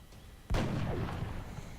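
A single sniper rifle shot from a video game cracks out suddenly, a short sharp report trailing into a fading rumble, moderately quiet and alone.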